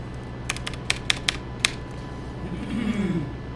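A short burst of keyboard typing, about six light clicky keystrokes in quick succession, over a steady background hum, followed by a faint creak.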